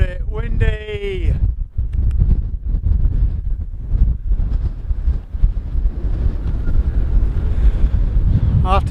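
Strong gusting wind buffets the microphone continuously on the exposed summit of Pendle Hill, a deep roaring rumble that runs under and around a man's speech.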